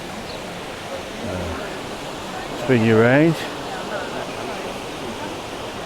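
The Algar waterfalls in Spain roar as a steady broadband rush heard from a distance, with a voice briefly speaking over it partway through.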